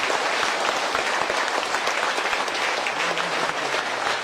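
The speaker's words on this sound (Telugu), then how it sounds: "ఇక్కడ నుంచి మనం కొట్టే క్లాప్స్ ద్వారా ఆయన కృతజ్ఞత తెలియజేసుకోవాలని" An audience at a political gathering claps together in sustained, dense applause, loud and even throughout with no voices rising above it.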